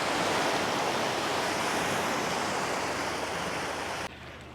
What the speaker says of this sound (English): There was a pretty big boat back there that make all these waves